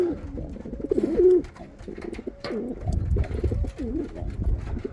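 Domestic pigeons in a loft coo repeatedly, with several overlapping rolling, throaty calls close by, joined by a few soft flutters and scuffles.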